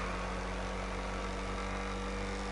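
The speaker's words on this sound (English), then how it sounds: "can you hear how gritty that kind of engine noise is? That is a stock engine." Stock engine of an Ocelot XA-21 supercar in a video game, a steady gritty drone with a low hum and little change in pitch, continuous and fairly close, no talking over it.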